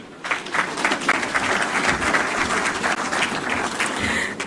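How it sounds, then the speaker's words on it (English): An audience at a Nairobi Securities Exchange bell-ringing event bursts into applause after a speaker's comments. The full, continuous clapping begins abruptly and carries on at steady loudness throughout. "Let's do another round of applause for the comments from Mr. Jose Akili"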